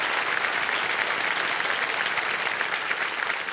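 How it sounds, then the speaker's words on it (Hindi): Studio audience applause on a televised quiz show set, steady and dense, filling the space evenly without pause for the whole stretch. "और ताली बज जाए इधर इनके लिए"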